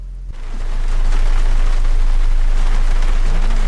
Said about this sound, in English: Oh, it's like raining.